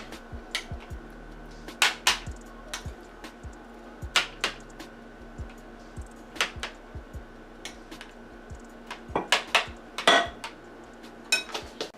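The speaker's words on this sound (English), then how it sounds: "I'm going to put the mashed potatoes on." Mashed potatoes are served onto a plate beside a steak dinner, with a series of sharp, close clinks and taps of metal utensils against the plate over a quiet background.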